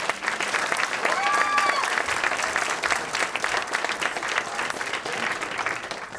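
An audience applauds at a children's rights and culture event, a dense, steady clapping that fills the whole stretch, with a few voices briefly rising over it near the start.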